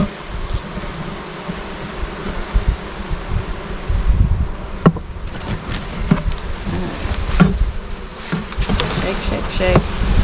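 Honeybees swarming while a new colony is shaken into a hive on a mountain farm: a dense, continuous buzzing drone close by, with scattered thumps and knocks from handling the equipment.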